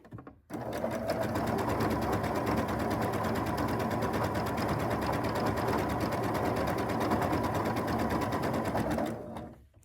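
A sewing machine stitches quilt pieces in a continuous chain-piecing run, a steady rapid whir starting abruptly after half a second and stopping just before the end, close and alone.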